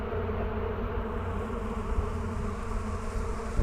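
Dense swarm of honeybees crowding a hive entrance, a continuous close buzzing hum that stays loud and steady throughout with no voices.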